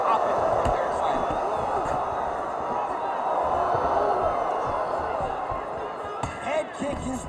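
An arena crowd in the UFC 5 video game roars and cheers steadily through a stand-up fight, a dense continuous wall of noise with occasional thuds and a voice.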